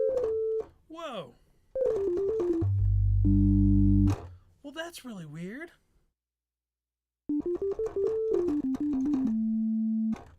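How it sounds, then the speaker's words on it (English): A Korg DW8000 synthesizer plays a run of held and pitch-bending tones, then settles on a steady, near-pure sine-like note that sustains to the end; someone speaks briefly during a gap. "that sounds like a perfect sine wave"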